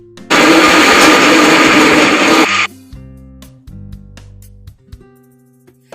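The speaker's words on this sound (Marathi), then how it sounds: "चवीनुसार मीठ घालून मिक्सरला फिरवून घ्यायचे" Mixer grinder running hard on batter with coriander and salt, a loud dense whir from about 0.3 to 2.6 s that then cuts off, leaving quiet low hum and a few clicks of handling.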